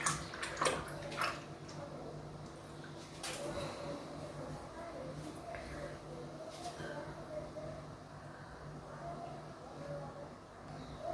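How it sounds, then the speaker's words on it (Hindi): Hands are washed under running water in a home kitchen while meat cooks nearby, a steady low rush of flowing water with a few splashes and knocks early on. "मैं ज़रा हाथ धो लेते हैं।"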